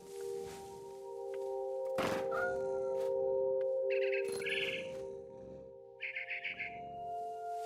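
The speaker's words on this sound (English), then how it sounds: "I tried to be quiet, but the bird was really scared." A frightened bird calls in the video game What Remains of Edith Finch, giving a few short chirping bursts at moderate loudness over a steady, humming game ambience.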